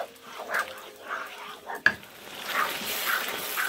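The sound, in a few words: stirring minced meat with tomato garlic sauce in a pan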